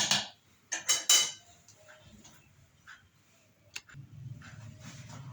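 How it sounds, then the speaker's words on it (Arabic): Metal utensil clanks and scrapes against a cooking pot as food is stirred and mixed, with a few sharp knocks near the start followed by quieter scraping and faint kitchen background. "واقلب بقى كده كويس، هنخلطه كده مع بعضه"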